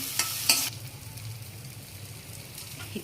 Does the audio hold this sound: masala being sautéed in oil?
yes